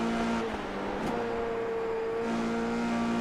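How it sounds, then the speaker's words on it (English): A Formula 3 race car engine in a sim racing game at Oulton Park holds a steady high rev, droning continuously with a slight pitch shift partway through, loud and close. "Doesn't sound like Khan's revving that car out as high."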